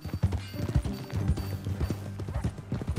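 Horse hooves clip-clopping in the Red Dead Redemption 2 game, a brisk uneven run of close thudding hoofbeats in a galloping rhythm, alone without talk.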